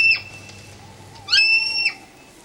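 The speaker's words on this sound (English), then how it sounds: "Did you hear the lapwing?" Lapwing calls at night in a British countryside, two clear whistled cries, the second stronger and longer, over a low steady background hum.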